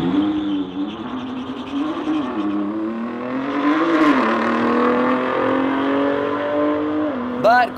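A car's drivetrain whines loudly as it accelerates hard at a drag strip, the pitch sweeping up and dipping several times, with a short squeal or skid near the end.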